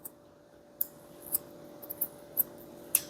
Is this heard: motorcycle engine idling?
no